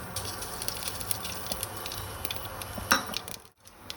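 Whole spices, including a bay leaf and mustard seeds, fry in hot oil for a village-style chicken curry, giving a soft, steady sizzle broken by scattered crackles and pops and one sharp clink.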